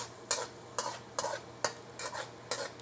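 Aromatics stir-fried in a wok over low heat, with a quiet steady sizzle and six sharp, evenly spaced spatula scrapes against the metal, close by.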